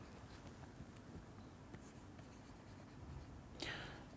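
Chalk or marker writing out a lemma on a board, quiet steady scratching strokes over a hissy room background, ending in a brief louder scrape.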